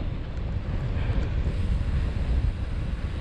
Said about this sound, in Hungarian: Jó hűvös, szeles idő van.